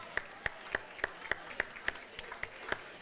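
Clapping at the Monterey Park Library Foundation masquerade gala for Bob Jen, heard as a single pair of hands striking in a slow, evenly spaced rhythm of about ten sharp claps, fairly faint and alone.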